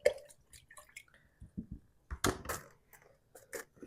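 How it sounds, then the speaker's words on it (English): Ginger bug mixture being stirred with a utensil in a jar: soft wet clinks, squishes and drips, scattered and irregular, close and fairly quiet, with no talk. "now all we need to do is we're going to stir this up"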